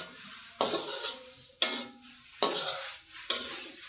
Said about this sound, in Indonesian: Kita tumis-tumis sampai air yang tadi aku blender itu agak menyusut, baru nanti masukin cuminya.